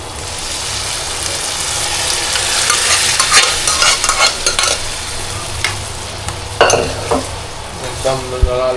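A spoon stirs khichdi frying with onion, tomato, salt and red and green chilli, giving a loud close sizzle with scraping strokes that grow busier partway through, with no talking.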